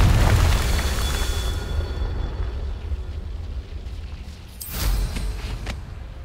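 An explosive Confringo spell blast in the Hogwarts Legacy video game, a heavy low boom that decays into a rumbling tail, followed by a second sharper burst near the end.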